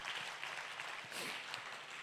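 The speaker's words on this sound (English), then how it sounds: "But let's give our shuttlers, is that the right word, shuttlers, a round of applause." A church congregation applauds volunteer shuttle drivers, a continuous, moderately loud spread of clapping across a large room for a couple of seconds.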